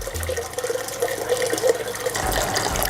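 Hot sparge water at 75 °C pours steadily into a Grainfather all-in-one beer brewing system, a continuous close splashing and trickling fill that grows slightly fuller near the end, with no talk.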